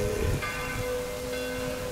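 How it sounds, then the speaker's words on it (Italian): Church bells in a quiet Italian village, a sustained ringing tone with two soft strikes that hang in the air, fairly distant and calm, with no talking. "c'è silenzio, ci sono le campane che fanno compagnia"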